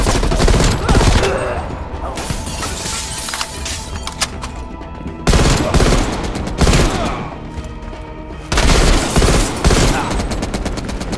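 Heavy machine gun fire in Call of Duty Black Ops Cold War, a dense, loud, sustained barrage of rapid shots with brief surges across the whole stretch.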